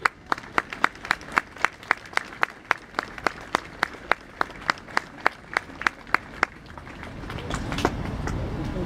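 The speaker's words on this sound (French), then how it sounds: "Je vous demande de les applaudir." Sparse, evenly spaced claps ring out at an outdoor 11 November commemoration ceremony, like a small group clapping in unison, before fading into a low rumble of wind or traffic.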